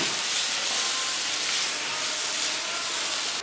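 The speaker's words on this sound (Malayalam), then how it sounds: "തക്കാളി ഇട്ടിട്ട് നല്ലോണം ഒന്ന് ഇളക്കണം." Chopped tomatoes hit a hot pan and are stirred, giving a loud, continuous sizzling hiss that stays dense and even throughout, with no voices.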